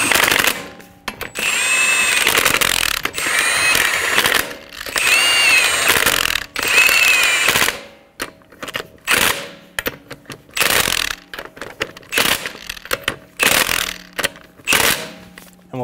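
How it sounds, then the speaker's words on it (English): An impact wrench snugging the wheel lug nuts on a 2007-2011 Toyota Camry, heard as a series of close, loud, rattling bursts and short whirrs separated by brief pauses. "Snug down the lug nuts."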